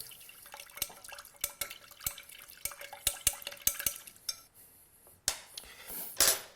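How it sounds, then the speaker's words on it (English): A metal bar spoon stirs amber agave syrup inside a mixing glass, giving a run of sharp, close clinks and taps in uneven rhythm, with brief rattling and a short burst of brighter scraping near the end. "I'm just going to stir the spoon around just to make sure I get all of the agave out of there."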